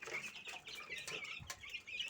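Crowd of 12-day-old native chicks cluck and peep continuously as they rush at feed set in their feeders, busy chirping with a brief flutter of wings, no talking.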